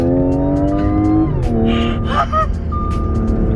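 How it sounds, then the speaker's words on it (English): A supercharged Audi tow rig accelerates hard, its loud, close engine note climbing steadily before dropping sharply at a gear change and pulling again. "Hit the gas."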